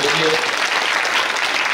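Dense, steady clapping from an audience at a Marathi kirtan, honouring a renowned mridang master, fills the whole stretch close and loud, with a brief voice at the very start.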